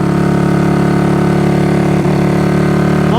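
A Honda CB200T motorcycle engine runs steadily with an old spark plug fitted and a broken camshaft, giving a loud, continuous idle-like drone throughout, with one brief dip in the rhythm partway through.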